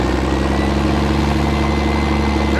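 M113 armored personnel carrier engine running in a forest, a steady, loud low rumble with a continuous droning hum and no clear rise in pitch, heard alone without voices.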